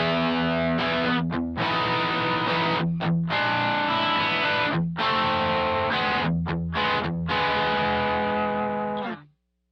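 Dry looped electric guitar signal with no delay or reverb added, played steadily through a looping rig built around a Singular Sound Aeros and EHX 95000, with repeating chords and brief gaps before stopping abruptly.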